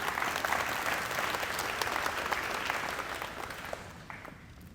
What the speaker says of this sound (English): Can we give a round of applause for Speck?